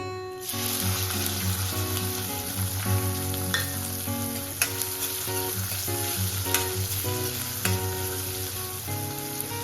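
Green chilies and onion sautéing in hot oil with cumin and asafoetida for a Kathiyawadi tempered rotlo, a steady bright sizzle with intermittent stirring clicks, a tonal backing running underneath, no voices.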